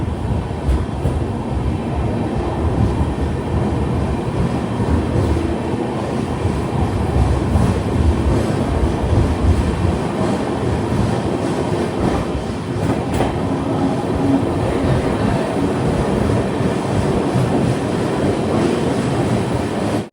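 A Matsyagandha Express sleeper train on the Kerala to Mumbai route rolls along in the rain with a steady, loud rumble of wheels and carriage noise throughout, broken by occasional rattles and clacks, with no voices.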